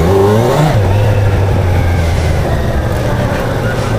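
A Kawasaki Z1000SX motorcycle engine revs up loud and close, its pitch rising briefly before it settles into a steady, throaty drone.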